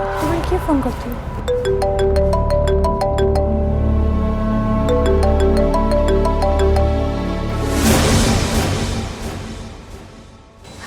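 A melodic phone ringtone plays loudly, a repeating chiming tune of bright tones, ending with a short burst of noise.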